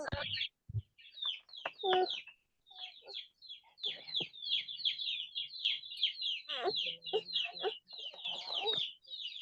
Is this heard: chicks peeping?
yes